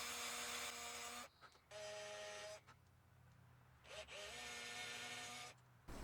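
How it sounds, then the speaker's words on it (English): A power drill whines in two long bursts into a wooden bass guitar neck, with a short pause between them and faint handling noise in the gaps. "I start by drilling for a pair of locating pins."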